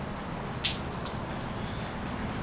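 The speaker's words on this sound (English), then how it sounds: "I'm just gonna let y'all know it's raining like right behind me." Heavy rain falls outside, a dense, steady hiss with scattered patter and drips, heard close and continuous without any talking.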